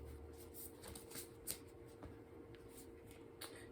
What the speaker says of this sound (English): Some initial shuffling,